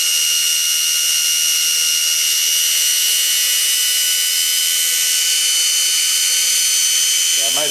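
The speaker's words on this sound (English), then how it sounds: "So our motor speeds up" The electric motor of a rotary transformer, running with a 1 ohm load across its coil, gives a loud, steady high-pitched whine that climbs slightly near the end as it speeds up.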